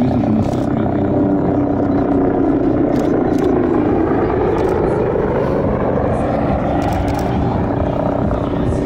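Military helicopter flying at the Zemunik 93rd Air Force Base Day air show in Zadar, Croatia, a loud continuous rotor drone under someone talking throughout.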